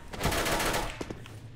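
MP9 submachine gun fire in Counter-Strike, one loud rapid burst of shots about a second long followed by a few single pops and fading echoes.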